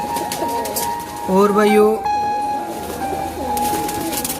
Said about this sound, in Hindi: कबूतर लाए हैं भाई 150 के करीब भाई, 150 से ज़्यादा ही होंगे जी।